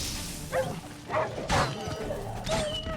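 Dogs in The Witcher 3: Wild Hunt on Death March difficulty yelp and whimper in combat: four short, sharp yelps spaced about half a second apart, over steady game ambience.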